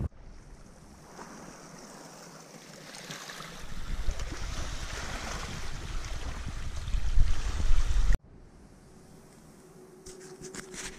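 A lightweight inflatable dinghy moves on open water near Encampment Island, with a steady wash of water and wind that swells louder midway before cutting off to a quieter lap of water.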